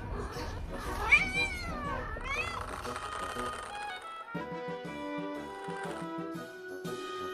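A mother cat meows when disturbed while with her kittens, a few drawn-out, whining meows near the start, then quieter sounds over soft background music.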